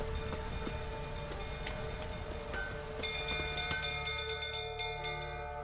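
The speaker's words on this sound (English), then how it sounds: "Looks like rain." Steady rain in the video game The Witcher 3 patters across a surface, with scattered droplet ticks and faint chiming tones layered over a constant wash of noise.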